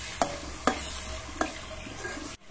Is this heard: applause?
no